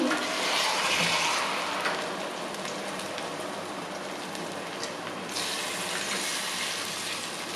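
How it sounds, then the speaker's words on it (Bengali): Water splashes steadily into a pan as a bowl of poppy seed paste is rinsed out for a homemade rui fish posto curry, a continuous close pouring wash that eases slightly partway through. "এটা ধুয়ে একটু জল দিয়ে দিচ্ছি।"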